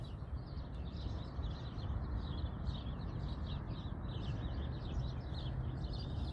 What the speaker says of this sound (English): Love the sounds of those birds as well.